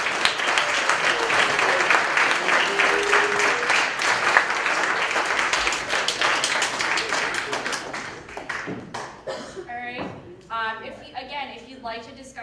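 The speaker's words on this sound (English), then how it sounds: "let's have a big round of applause for our two debaters tonight" An audience gives a sustained round of applause for two debaters at an evening debate, dense clapping that thins out toward the end as a few voices speak over it.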